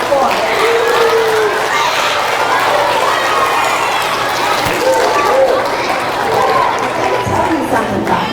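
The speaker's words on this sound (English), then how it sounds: "Clap for him." Middle school students clap as a guest is brought out at a seventh-grade presentation. The clapping is dense and near, with lively chatter and shouts over it.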